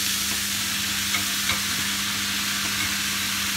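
Spinach fries and is stirred in a crowded pan for Persian lamb ghormeh sabzi, with a steady close sizzle and a few faint scraping stirs throughout.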